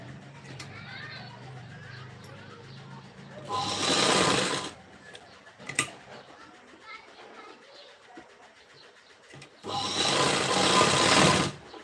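A sewing machine stitching a boat neck blouse runs in two loud bursts of rapid whirring, close by, with someone talking quietly between the runs.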